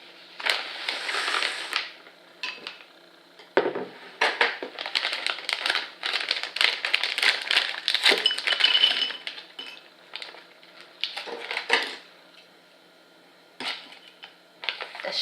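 A package of baked crispy edamame snacks is torn open and handled, producing loud, close crinkling and crackling of the wrapper. Short bursts are separated by brief pauses, with no talking.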